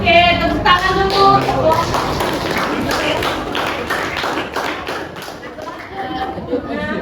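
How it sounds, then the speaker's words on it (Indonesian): Classroom audience clapping at a training session, steady rhythmic hand claps filling the room with a voice talking at the start. "Oke, tepuk tangan dulu."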